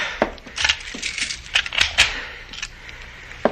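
A door is locked with a key in an old radio drama, giving a few close metallic clicks and a key rattle in an irregular sequence, fairly quiet, with a final sharp click at the end and no voices.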